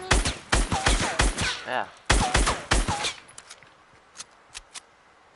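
Rapid bursts of automatic gunfire in Fortnite ring out close and loud in two clusters, each a quick series of sharp shots, followed by a few scattered single shots, with a brief spoken word among them.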